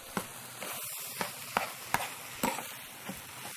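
Spoon stirring half a can of tomato sauce into mock cabbage roll filling in a pan, a soft sizzle underneath with a string of separate scraping strokes at an irregular, unhurried pace, close by and with no talking.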